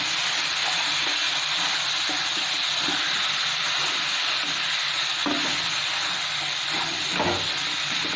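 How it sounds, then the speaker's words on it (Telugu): Chicken fry being stirred in a hot pan, a steady loud sizzle with scraping and clinking of the spoon against the pan throughout, no talking. "ఇప్పుడు దీన్ని ఒకసారి కలిపేసుకోండి."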